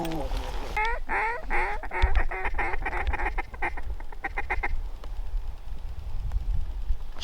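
Mallard ducks quack in rapid, repeated bursts during a snowy duck hunt, loud and fairly near at first and then thinning out, over low wind and background rumble.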